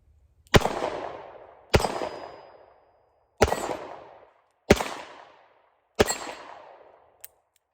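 A Smith & Wesson Model 60-14 LadySmith revolver firing .38 Special rounds outdoors, five sharp loud shots at uneven intervals, each with a ringing decay, plus a faint click at the end.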